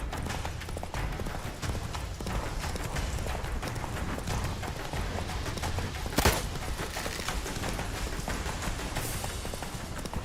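Galloping horse in The Witcher 3 video game: a fast, steady clip-clop of hooves running on without pause, with one sharp bang partway through over a busy game soundscape.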